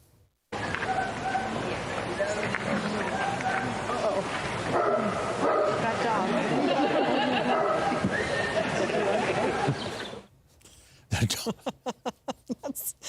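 A dog in Ireland yaps and whimpers amid a loud, steady crowd of chattering people, then lets out a quick run of sharp, close barks near the end after the crowd noise drops away.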